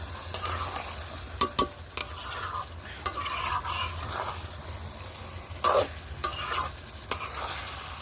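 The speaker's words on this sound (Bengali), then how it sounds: "মাংসটা কষিয়ে নিচ্ছি" Chicken being stir-fried in a pan for kosha, with steady soft sizzling and intermittent sharp scrapes and clacks of a spatula stirring the meat, close and without talk.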